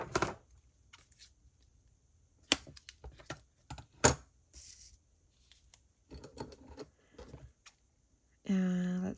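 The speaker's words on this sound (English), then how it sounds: "And then I just go in with my scissors." Scissors make crisp snipping and cutting sounds through clear PET washi tape in short irregular bursts, close and fairly quiet, with a brief louder rustle near the end.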